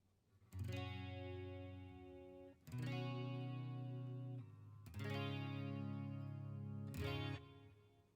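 A Wylde Audio copy electric guitar played through a clean tone, four ringing chords struck about two seconds apart, each sustaining brightly with a shimmering effect before the next, loud and close with no talking.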